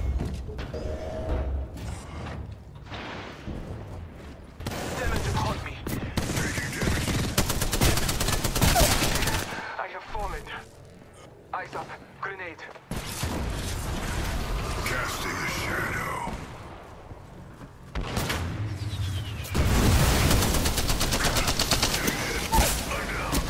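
Gunfire from the battle-royale shooter Apex Legends, bursts of shots and fusillades repeating across a busy match, mixed with game sounds and voices talking over the action.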